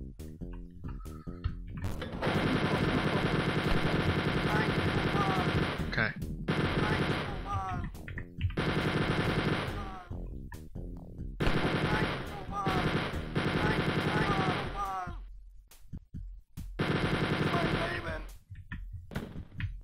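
Retro gunfire from Wolfenstein 3D: repeated bursts of loud, rapid shots in several long blasts separated by short pauses, with game sound effects in between.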